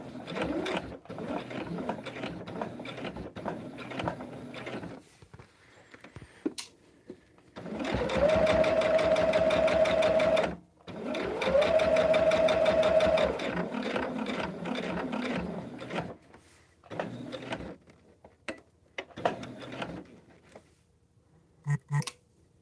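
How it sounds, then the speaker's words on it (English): A sewing machine stitching a Storm at Sea throw quilt whirs in long, loud steady runs, with a high mechanical whine during two bursts, then shorter stop-start stitching and quieter handling noises between. "We're going to be careful not to sew over the corners."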